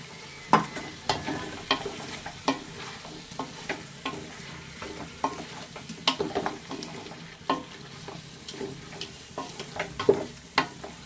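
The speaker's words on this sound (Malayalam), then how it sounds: "നന്നായിട്ട് വഴറ്റി അവിടെ 10 മിനിറ്റ് നമുക്ക് ഇത് നന്നായിട്ട് അടച്ച് വെച്ചിട്ട്" Chicken biryani masala sautéing in a pan, with a spoon scraping and stirring through it in irregular strokes over a steady soft sizzle, close and moderately loud, with no talking.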